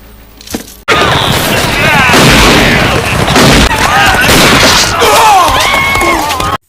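Gunfire in a western movie scene, with a burst of sharp shots and booms over dramatic music and shouting voices, loud and chaotic, stopping abruptly at the end.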